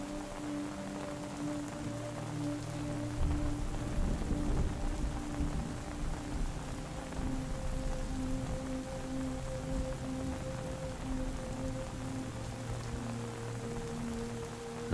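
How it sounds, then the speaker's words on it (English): Steady rain patters on a tent in a continuous soft wash with a low rumbling undertone, holding at an even moderate level throughout without voices. "As the rain continues to become heavier"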